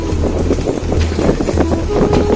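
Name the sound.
Honda CB300F motorcycle running in neutral, with wind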